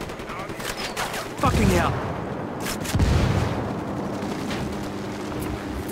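Gunfire in the Ghost Recon Wildlands video game, with loud rapid shots and heavy blasts crackling over a dense background while a man briefly exclaims.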